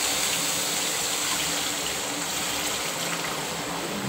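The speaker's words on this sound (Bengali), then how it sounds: "এবারে একটু জল দেবো" Water poured into a pan of frying mustard spices for a pomfret curry, giving a steady, even gushing rush that lasts about four seconds with no voices over it.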